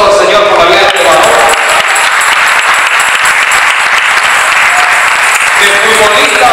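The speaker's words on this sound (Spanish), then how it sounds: "Den un aplauso para el Señor" Dense, loud applause from a church congregation fills the space continuously, with voices and shouts mixed in over the clapping.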